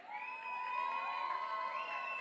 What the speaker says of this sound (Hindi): जोरदार तालियां हो जाए लड़के वालों के लिए